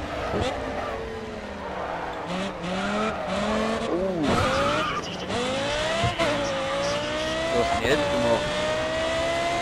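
Audi R8 LMS Ultra race car at full throttle at Spa-Francorchamps in GRID Autosport, the engine rising and falling through gear changes with tire squeal, close and loud beneath German talk.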